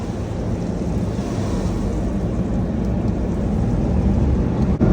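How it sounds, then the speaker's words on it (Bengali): Water spraying to rinse soap foam off a car at a car wash, a loud, steady, broadband hiss and splash that continues throughout, close up and without talking. "সাবান দিয়ে মাজা ঘষার পরে এখন জল স্প্ল্যাশ করে সব ফেনাগুলোকে ভালো"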